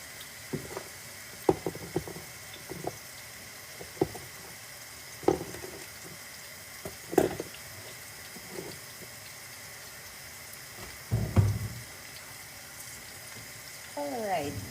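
Onions browning in a frying pan for matooke katogo give a low, steady sizzle, broken by scattered clinks and scrapes of a utensil and cookware.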